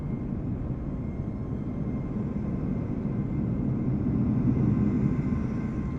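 A Ryanair Boeing 737 arriving at Ireland West Airport Knock in Microsoft Flight Simulator, heard as a steady low jet engine rumble that swells slightly toward the end, with no talking.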